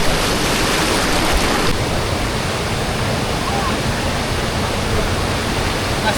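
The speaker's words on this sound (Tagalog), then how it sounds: "agos" A strong river current rushes as a dense, loud and continuous roar of water. It is close and steady throughout, with a voice briefly heard over it.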